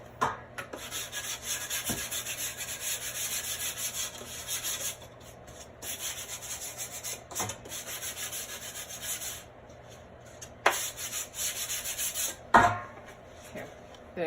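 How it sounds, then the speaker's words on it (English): Steady light rubbing and scraping of a small sanding disc lightly sanding a surface over a trash can, continuing with brief pauses and a few sharp taps near the end. "I'm gonna sand this really lightly over my trash can"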